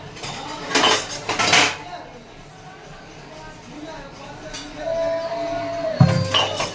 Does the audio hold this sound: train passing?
no